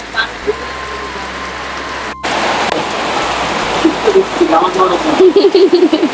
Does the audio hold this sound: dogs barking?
no